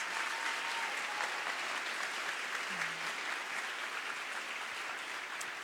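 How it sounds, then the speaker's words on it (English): Steady, fairly faint applause from an audience, an even wash of clapping held for several seconds with no voices over it. "Applause."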